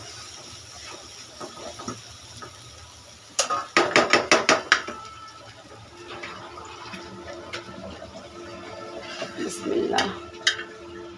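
Cooked jute greens with shrimp are served from the pot, with a metal spoon scraping and clinking in a quick burst of knocks near the middle and more scraping later. A voice briefly speaks over it.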